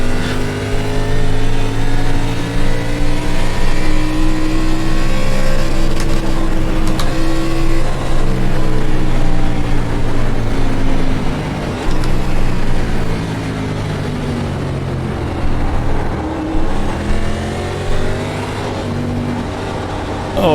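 An ARCA race car engine at Monza in the iRacing sim screams loudly and continuously through the gears. The pitch climbs and falls with upshifts and braking, and a driver's voice comes in now and then.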